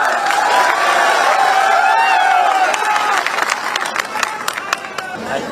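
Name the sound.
crowd applause and cheering at a rally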